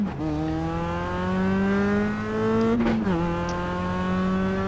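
A Mazda MX-5 Cup race car at Okayama pulls away in first gear, its engine note rising steadily and loud, with a brief shift-like dip near the end before climbing again, heard close with no talk.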